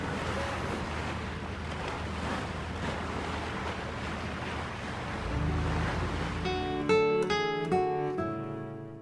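Steady wash of water and lapping waves with some wind, giving way near the end to calmer water and faint ringing tones.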